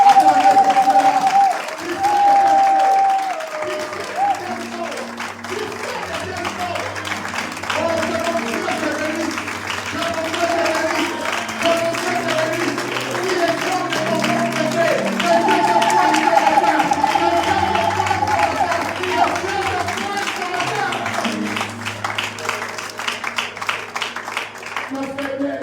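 A church congregation applauding and cheering in worship, a steady wash of clapping blended with music and raised voices that holds for the whole stretch.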